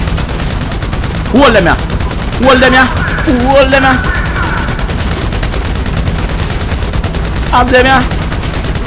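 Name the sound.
gunfire at helicopters in video game GTA 5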